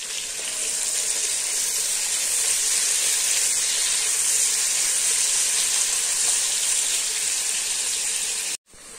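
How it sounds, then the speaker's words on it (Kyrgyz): Onions frying in a pan for a vegetarian plov, about five minutes in and starting to brown, give a steady, loud, dense sizzle that runs unbroken before stopping abruptly near the end. "Баш пиязды салып куруп атканыбызга бир 5 мүнөт болуп калды"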